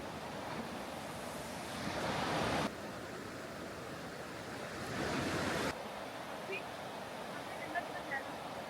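Water from the Kala Chashma spring in Kumrat Valley rushes in a steady broadband wash, swelling louder in two long surges, with a few faint clicks near the end.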